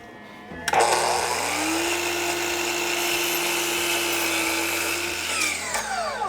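Power saw cutting PVC window trim at a 45-degree angle, a loud close whine that spins up, holds steady through the cut for several seconds, then winds down.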